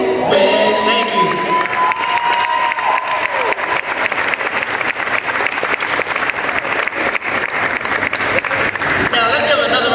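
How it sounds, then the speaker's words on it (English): An audience at a mall event bursts into sustained, loud applause with cheering and a few shouts, clapping dense and continuous for nearly the whole stretch before easing at the end. "Now let's give another round of applause to Malcolm."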